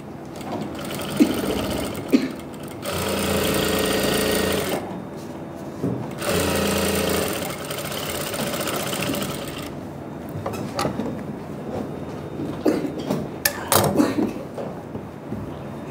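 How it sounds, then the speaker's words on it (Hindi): A sewing machine stitches a sleeve seam in bursts of steady mechanical whirring, pausing between runs, with clicks and handling noises of the fabric being adjusted near the end. "यहाँ पर लगा दो सिलाई।"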